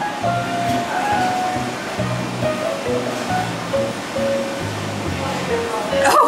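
Water poured into a toy cup and bubbling, a continuous close splashing gurgle with fluctuating loudness, ending in a brief louder fizz.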